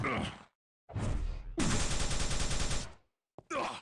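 Rapid, steady bursts of plasma gun fire in the Quake 3 DeFRaG trick-jumping mod, loud and close, with one long stretch of quick repeating pulses between shorter blasts and silent gaps.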